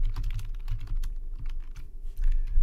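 Typing on a computer keyboard, with quick irregular key clicks rattling close by in short bursts and brief pauses, no voice over it.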